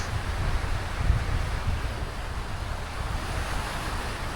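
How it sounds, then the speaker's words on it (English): Ocean surf rushes and rumbles continuously on a beach at Playacar, Playa del Carmen, a broad wash of waves with wind noise on the microphone and no voices. "Look at these waves, guys."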